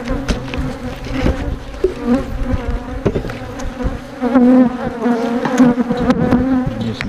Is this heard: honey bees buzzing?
yes